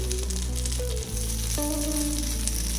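Sooji appe batter sizzles loudly in a greased appe pan while a wooden spoon nudges and flips each one, a steady close frying hiss with soft scraping, no voices.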